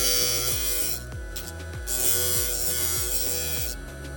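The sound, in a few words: grinder grinding down glass mosaic tooth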